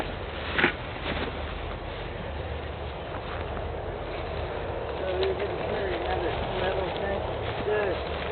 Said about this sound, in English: Some species of blackbirds are showing up.